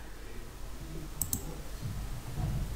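Two quick mouse clicks in close succession on a download button while a BIOS update is fetched for an ASUS motherboard, crisp but faint above low room noise.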